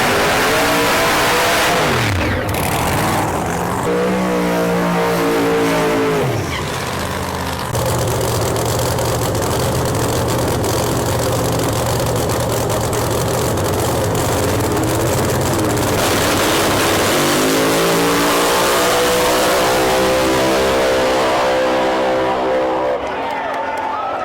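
Drag race cars, including a Mustang, roar off the line at a drag strip. Loud engines rev and accelerate hard in sweeping waves, then a steady roaring pass follows and another rising rev, with a commentator talking over it.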